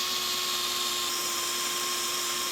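A small drill bores steadily into a Honda Africa Twin motorcycle part, giving a continuous high-pitched whine with a constant tone and no pauses, close and loud, with no talking.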